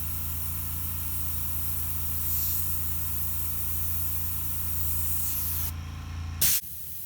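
An airbrush sprays paint onto a shark model in a steady, continuous hiss that holds evenly for several seconds and then cuts off abruptly, followed by a short click and near silence.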